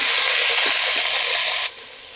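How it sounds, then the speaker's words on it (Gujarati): Washed mixed vegetables dropped into hot oil tempered with a pinch of asafoetida for green undhiyu, giving a loud, bright sizzle that hisses steadily, then drops abruptly to a quieter simmer near the end. "હવે થોડી હિંગ મૂકી આપણે ચપટી અને આ બધી સબ્જી ધોઈ લીધી છે એ બધી વઘારી"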